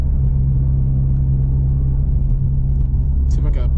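A turbocharged 9th-gen Honda Civic Si with a V8 swap drones with a steady, loud, rumbling engine note during a night drive, and a voice speaks briefly near the end.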